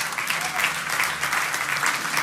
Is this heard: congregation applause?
yes